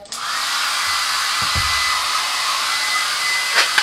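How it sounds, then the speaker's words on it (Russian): A hair dryer blows hot air at a balloon, a steady loud whirring hiss running continuously from start to end with a few faint knocks. "ты будешь на него феном дуть, горячим воздухом"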